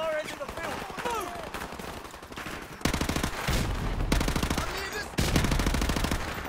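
Video game firefight with bursts of rapid automatic gunfire, dense crackling volleys that grow louder and more continuous partway through, with a voice shouting over the shooting.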